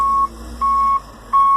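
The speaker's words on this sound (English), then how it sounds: "the guy's out here beeping on a tractor" Beeping from a tractor moving a car outside, a series of loud, steady electronic beeps in a regular on-off rhythm, each tone held for a fraction of a second.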